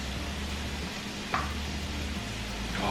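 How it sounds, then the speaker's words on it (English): Bacon frying in a pan gives a steady, close sizzle with a couple of brief clinks or scrapes, no one speaking. "Our front pan here is starting to simmer."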